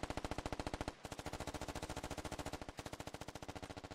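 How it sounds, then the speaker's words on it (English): Sustained automatic rifle fire in the military shooter game Squad, a rapid steady stream of close, loud shots with two brief pauses, no talking. "A lot of fire coming up to this hill."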